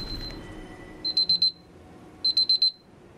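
A timer alarm goes off in two quick bursts of four shrill, high-pitched beeps each, separated by a short pause, sounding close and clear over a faint low background.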